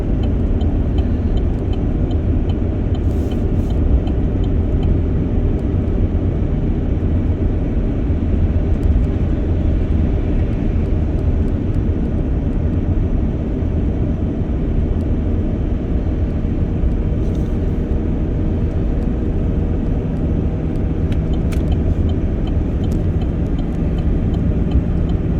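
Vehicle towing a heavy trailer along a highway at about 40 miles an hour, a steady loud engine and road rumble with wind noise holding unchanged throughout, no talking.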